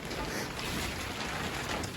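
Wind gusting across a garden plot by a small homemade greenhouse, a steady broadband roar buffeting the microphone close up, continuous and loud throughout with no talk.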